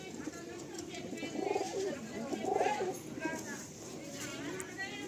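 Pigeons coo in a few low, warbling bursts nearby, with someone talking over them and a light steady background noise throughout.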